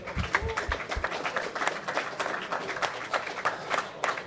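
An audience at a grappling championship bursts into dense, continuous applause for the match competitors, a thick crackle of many hands clapping that holds steady throughout with no clear talk.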